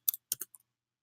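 A computer mouse clicks on a page element: a few crisp, close plastic clicks in quick succession, then silence.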